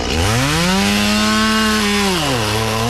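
A STIHL chainsaw engine runs loud and close, holding a steady high whine before the pitch sags as it loses power, with no talking over it.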